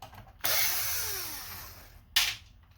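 A power screwdriver drives screws during an Xbox Series S HDMI repair. One loud, steady whir runs for nearly two seconds, then a short second burst follows and cuts off. Nobody talks.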